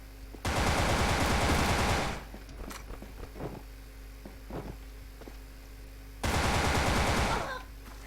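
Rapid automatic gunfire bursts in the shooter game Wolfteam, one long loud burst of roughly two seconds, a few scattered single shots and footsteps, then another sustained burst near the end.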